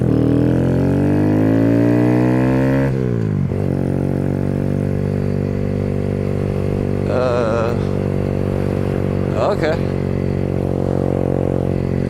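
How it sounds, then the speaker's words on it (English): A Kawasaki Z125 motorcycle engine with an Empire Industries exhaust and the silencer removed rumbles loudly and revs up, then settles into a harsh, throaty idle with a couple of sharp blips. One word is spoken. "this is the Empire Industries exhaust test. This is without the silencer."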